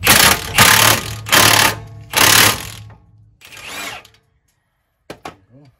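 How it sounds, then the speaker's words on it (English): An impact wrench with a 14 mm 12-point socket hammers a bolt on a Dodge Ram 1500 steering knuckle, four loud rattling bursts close together, followed by softer handling noises and a couple of clicks. "I'm going to take the impact, the 14 millimeter 12 point. And get it on the bolt"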